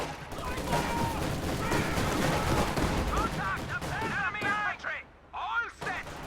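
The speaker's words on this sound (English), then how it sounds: "Black half-track taking AT gun fire, makes a late reaction." Anti-tank gun fire hits a half-track in a World War II strategy video game, with booming impacts and scattered gunfire throughout a dense battle din and a voice talking over it.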